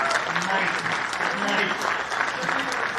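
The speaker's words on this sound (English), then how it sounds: "I think another round of applause might motivate him to say something on the stage." Steady, dense applause fills a stage event at the Vishwa Sadbhavana gathering attended by dignitaries, with many hands clapping continuously and fairly loud throughout, plus faint voices beneath.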